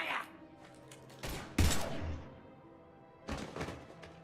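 Gunfire from a firefight in the Mass Effect 3 video game, heard as a few loud broadband bursts and thuds spread across the span with quieter rumbling between them, set against a steady game ambience.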